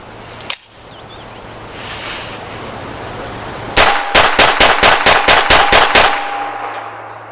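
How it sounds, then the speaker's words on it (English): A Smith & Wesson Model 41 .22 LR pistol is emptied in a rapid string of about eleven sharp, evenly spaced shots fired at a large target, each crack ringing metallically, with one isolated snap a few seconds before. "a magazine dump on the big target"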